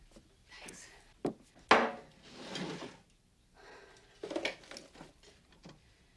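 A wooden drawer slides open and shut indoors, with rummaging knocks and rubbing in several bursts over about six seconds, close and fairly quiet.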